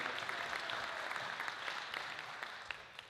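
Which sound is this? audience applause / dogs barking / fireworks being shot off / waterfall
audience applause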